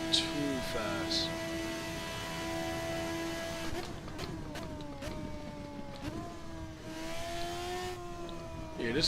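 Race car engine in a racing video game: a sustained, droning engine tone that shifts pitch as the car accelerates and changes gear, steady and fairly loud with brief sharp clicks.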